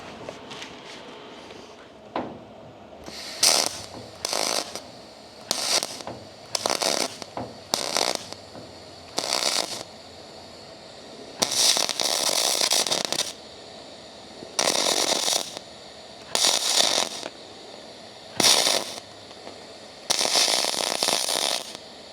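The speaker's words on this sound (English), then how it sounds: "Not really all that sure how fast to weld aluminum." Aluminum step boxes on a Marmon 57P truck being welded, bursts of crackling arc noise in roughly ten separate passes of one to two seconds each, loud and close with short pauses between.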